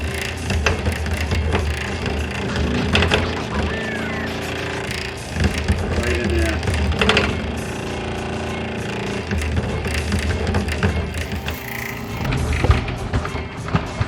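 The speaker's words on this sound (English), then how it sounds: "But the motor's still turning. I can feel the motor turning. But it's the gear itself that's slipping." A bread maker motor keeps running while its gear slips during kneading, giving a continuous rough, rattling grind with irregular knocking and clatter that carries on steadily throughout, with occasional talk over it.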